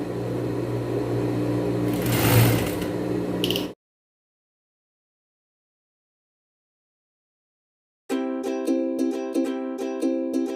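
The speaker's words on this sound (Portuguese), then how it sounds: "Vou lá e faço uma costura de pesponto." A sewing machine topstitching a child's dress runs steadily for a few seconds, goes silent, then starts again with a fast, regular ticking stitch rhythm, close and fairly loud.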